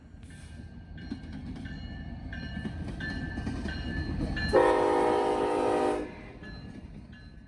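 A Norfolk Southern intermodal freight train, NS 262, rolls past on the New Castle District with a steady rumble, then sounds a loud, sustained horn blast for about a second and a half before the rumble carries on.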